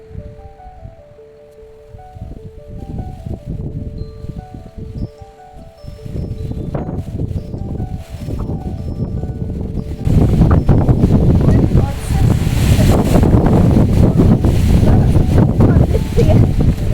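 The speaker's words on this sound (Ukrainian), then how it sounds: "Це сьогодні вітряно" Wind roars and buffets the microphone in a garden during an evening squall, growing much stronger halfway through, with faint tones and a voice underneath early on.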